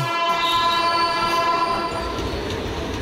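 A Churchgate-bound ladies special local train pulls into a station, its horn sounding loudly over the rumble and rattle of the carriages, close and sustained.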